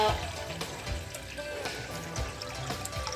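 Roughly two and a half glasses of water are poured into a cooking pot set on a lit stove for making rice, giving a soft, steady splashing trickle that stays fairly quiet throughout.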